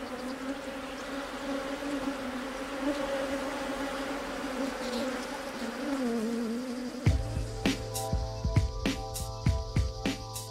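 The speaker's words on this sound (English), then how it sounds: "Reed blocks off the bees' entrances to their hive." Swarm of bees buzzing close around their hive entrance after it has been blocked off, a steady droning hum that gives way to louder, more scattered buzzing and clicks near the end.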